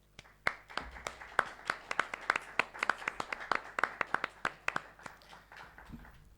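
Scattered clapping from a modest group at an academic history project presentation, sparse and uneven claps rather than a full roaring ovation, fairly faint and heard without talk.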